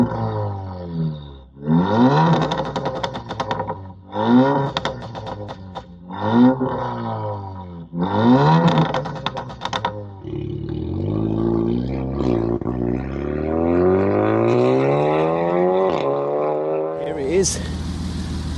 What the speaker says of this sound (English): It's running a full Cobra valved exhaust system, and I'll put a clip up here of like a rev up